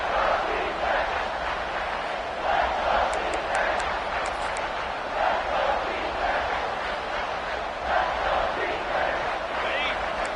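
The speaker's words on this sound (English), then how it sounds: "the crowd coming to life here, trying to help this defense down in the red zone" A stadium crowd in a football video game roars steadily as the defense holds in the red zone, with swelling cheers and chants under a continuous commentary voice.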